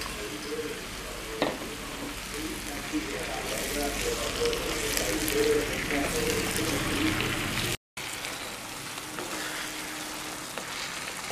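Tomatoes frying with ginger garlic paste in a pan for a mushroom gravy, a steady close sizzle with soft crackles and a few stirring clicks, no talk.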